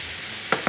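Butter heats in a saucepan to start a roux for a mushroom velouté, giving a soft, steady sizzle broken by two quick sharp clicks near the end.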